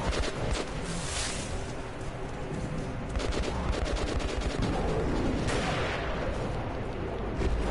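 Gunfire in the video game Metro Last Light Redux: dense, continuous bursts of automatic shots, loud and sustained, with a few sharper cracks standing out.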